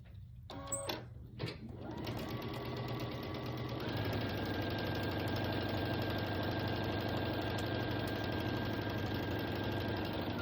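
A sewing machine stitching fabric pumpkin pieces together for a fall door hanger, starting after a few handling clicks and settling into a steady, close whirring run that holds to the end.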